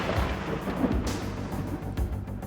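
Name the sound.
thunder rolling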